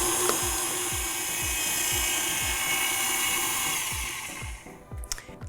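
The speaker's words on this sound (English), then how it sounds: "So now we mix." A hand or stand mixer whirs steadily as it beats gluten-free, dairy-free cupcake frosting in a bowl, a continuous loud motor drone with rhythmic low thumps before it winds down and stops near the end.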